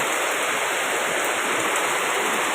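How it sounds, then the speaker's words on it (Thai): Steady, dense rainfall hisses continuously, loud and close, with no voices or other sounds, at a forest monastery in Kalasin, Thailand. "ขณะนี้ฝนกำลังตก"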